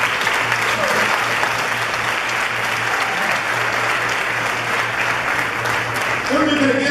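A church congregation applauds together in a sustained, dense burst of clapping that carries on steadily throughout, with voices mixed in and a low hum underneath.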